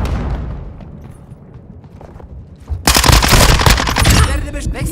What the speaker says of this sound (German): Werfe Semtex.